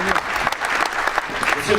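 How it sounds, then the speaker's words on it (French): Audience applause for a family at an award ceremony, dense steady clapping with a voice speaking over it throughout the short stretch. "Les applaudissements, s'il vous plaît, pour la famille Maerten."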